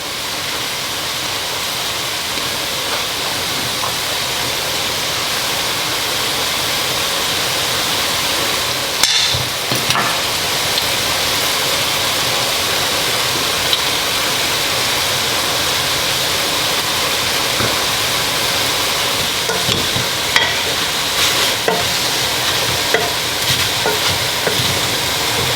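Onions and garlic sizzle and crackle steadily in a hot pan, a continuous frying hiss with occasional louder pops and a stir.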